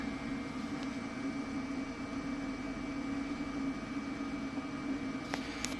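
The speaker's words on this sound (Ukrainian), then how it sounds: "Кипить електрочайник." A steady, low whooshing hum of an electric kettle heating and boiling, constant and fairly quiet, with a few faint clicks near the end.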